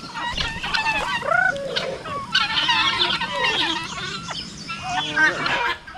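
Backyard chickens clucking and squawking close by in a rural Filipino setting, busy overlapping calls with bursts of fowl chatter throughout, voices mixed in faintly.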